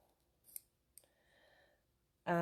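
Scissors snipping patchwork fabric, a couple of quiet isolated cuts close by followed by a louder burst of handling noise at the end.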